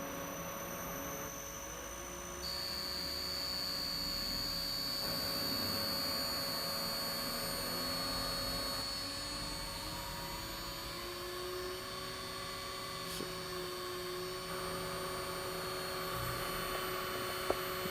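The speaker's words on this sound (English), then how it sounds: "you can watch the motor in the background spin" Electric motor spinning at 3600 RPM on a 120 hertz drive, a faint, steady whirring hum with a high whine that holds throughout, heard from a distance in a quiet room.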